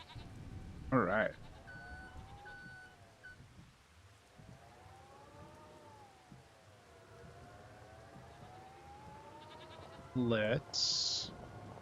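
Goats bleat in the Farming Simulator 25 video game, two short bursts near the start and end, moderately loud, separated by a long low droning background with a steady tone sweeping slowly.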